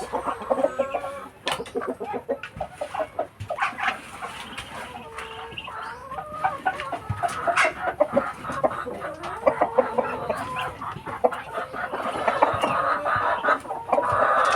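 Backyard chickens cluck and murmur steadily while pecking at fresh greens such as kangkong, azolla and malunggay, with close, overlapping calls and a person speaking briefly at times.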